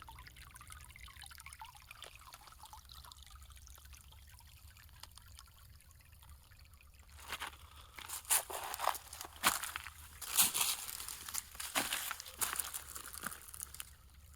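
A small, clear-running creek trickles faintly at first, then grows into louder, uneven splashing and dribbling in the later half, with no voices.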